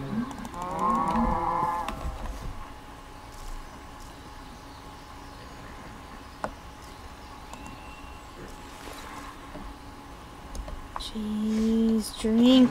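A cartoonish cow in the farming video game Magiculture 2 lets out a couple of rising moos, one early and one at the end, with faint clicks and game sounds between them.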